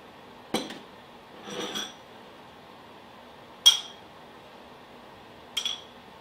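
Sugar is spooned into bowls for a homemade body scrub, giving a few sparse clinks and scrapes of a spoon against bowls spaced out over several seconds, with quiet gaps between them.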